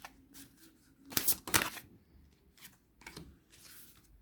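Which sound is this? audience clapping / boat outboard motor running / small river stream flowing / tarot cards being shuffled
tarot cards being shuffled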